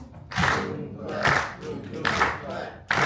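An audience claps along in a rhythmic pattern during a drummer's performance, with loud bursts of crowd clapping and voices recurring about every second against a busy background.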